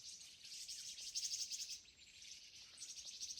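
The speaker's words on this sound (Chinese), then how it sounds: "好多小鸟。" Many small birds twitter in a rural mountain valley, a faint, distant, continuous wash of high chirps with a few slightly louder bursts of calls. No one speaks.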